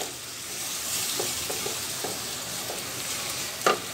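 Ginger and garlic paste sizzling and frying in a pan for beef tripe curry, a steady hiss broken by soft stirring scrapes and one sharper clack near the end, no one speaking.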